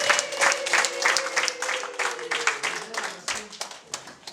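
Guests at a wedding in Kigali clap in rhythmic, repeated bursts, loud and close, while a voice keeps talking over the applause.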